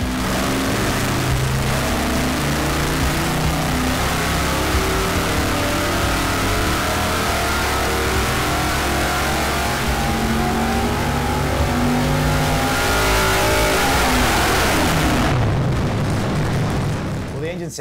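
A big V8 engine with a Dart short block, top end and hydraulic roller setup revs hard and steadily to about 6,500 RPM on a dyno, loud and continuous, then the throttle drops and the roar winds down near the end.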